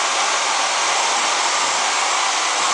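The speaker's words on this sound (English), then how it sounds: "He's going to plug in a vacuum, which is just for additional" A shop vacuum runs for dust collection in a portable carpentry workshop, a steady, loud broadband whoosh that drones without change throughout, with no voices over it.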